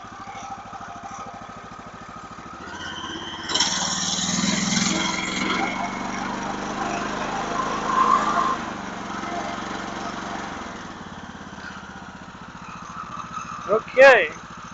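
A backwoods hobby sawmill engine runs at a fairly low, steady speed, rising slightly in pitch and loudness midway before easing off again, with a brief sharp clank near the end.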